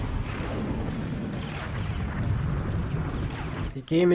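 Weapon fire in the video game Army Men: Sarge's Heroes, a run of heavy booming blasts and rumbling impacts, loud and close, with a sharp cutoff near the end.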